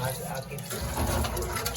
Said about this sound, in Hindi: जी चाय का पानी भर लिया है।